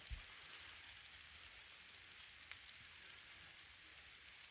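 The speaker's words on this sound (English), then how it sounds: "You can hear the rain hit the canopy above." Soft, steady rainfall pattering on the forest canopy overhead in the Great Smoky Mountains, faint and continuous, with an occasional heavier drop.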